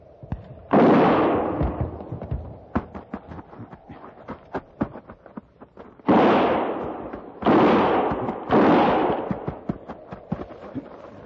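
Gunfire effect in an old-time Western radio drama: four loud, booming bursts, one early and three in quick succession later, with sharp crackling shots and clicks scattered between them.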